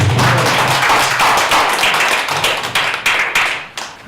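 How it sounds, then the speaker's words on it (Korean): A seated audience claps loudly and close, a burst of many hands that gradually thins into a few scattered, separate claps toward the end. "박수 한번 쳐주세요"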